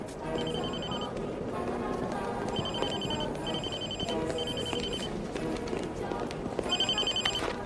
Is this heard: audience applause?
no